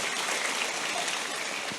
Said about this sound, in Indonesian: Ayo kita tepuk tangan yang meriah.